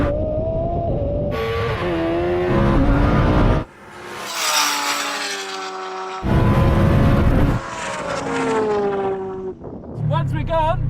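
A Kawasaki H2R motorcycle and a twin-turbo Lamborghini Huracan in a drag race, engines roaring loudly as they rev and accelerate, pitch climbing and then dropping at abrupt shifts, with a brief lull before the noise surges again.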